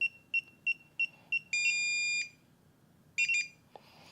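DJI Goggles 3 and Controller 3 beeping in bind mode: a run of short, evenly spaced high electronic beeps, then a long sustained tone, a pause, and another cluster of beeps, close and clear with no talk.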